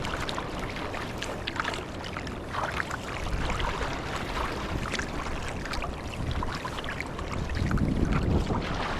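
A kayak paddles on Lake Erie in December, water splashing and swishing continuously with wind buffeting the microphone, fairly close and steady throughout.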